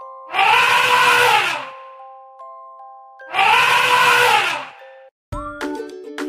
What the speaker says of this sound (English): Elephant, trumpet.